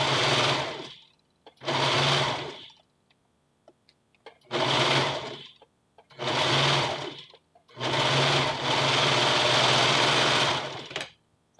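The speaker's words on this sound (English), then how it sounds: "We're going to overlock it" A serger overlocks the seam allowance around a puff sleeve on a western blouse, running in five loud bursts of steady mechanical whirring separated by short pauses, the last burst the longest, with no talking.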